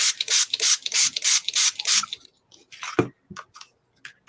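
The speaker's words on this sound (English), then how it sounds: "Spray it." Several quick, hissing spritzes from a spray bottle during an art session come in a steady rhythm close up, followed by softer scattered handling noises and small taps.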